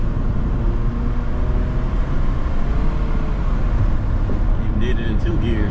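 A 1998-2002 Honda Accord with a suspected transmission fluid or shift solenoid fault runs steadily, its engine drone loud and close as the automatic shifts, with a voice briefly heard.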